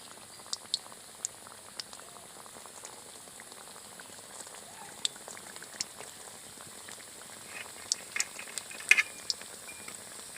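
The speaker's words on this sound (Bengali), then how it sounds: "এবার আমি গজাগুলো ভেজে নেব।" Khasta gaja, a flaky fried sweet pastry, frying in lightly heated oil, a faint, steady bubbling sizzle with scattered small pops and clicks, quiet and close, no voices.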